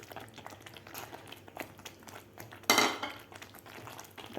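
Fried jackfruit pieces tipped into masala in a pan, heard as quiet clinks of utensils and a single louder clatter midway, with soft kitchen noise around it.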